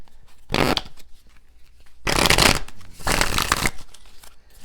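Tarot cards shuffled close by in three bursts of riffling, brief then longer, with short quiet gaps between.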